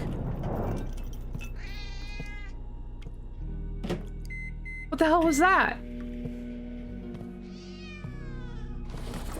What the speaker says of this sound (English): Our cat is very hungry.